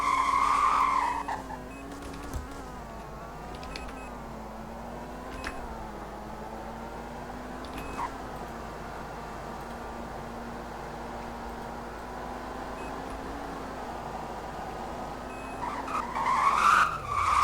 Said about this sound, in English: that's what the shift light sounds like, or the shift sound